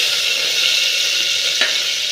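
Chopped green chillies dropped into hot oil with mustard seeds and cumin, producing a loud, continuous bright sizzle close by, with a small crackling burst near the end.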